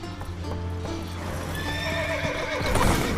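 Horses in The Witcher 3 neigh and whinny over clip-clopping hooves, a rising whinny near the end standing out above steady stamping, close and moderately loud with no talk.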